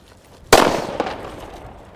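A single sharp firecracker bang from an Explosive Fire banger on New Year's Eve goes off in daytime, its crack ringing out and fading over about a second and a half in open air.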